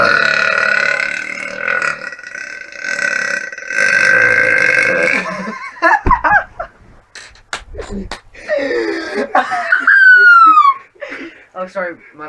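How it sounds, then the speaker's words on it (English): A loud, drawn-out human burp rumbles for several seconds, followed by short smacking sounds and breathy, giggling vocal noises close to the microphone. "But that was a good burp."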